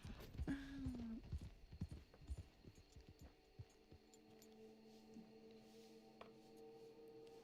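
A Marble Sabbiano Criollo horse in the Red Dead Online video game, hooves clip-clopping in a quick irregular patter that thins out to faint ambience, with a brief whinny-like tone near the start and no voices.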